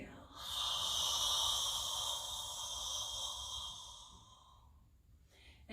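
A long, steady breath is pushed out through the mouth during a hot Bikram yoga session. The breathy hiss lasts several seconds, close and soft, then tapers away.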